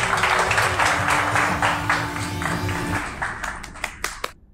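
The audience at a cooking contest applauds loudly for about three seconds before the clapping thins out into a few scattered, separate claps.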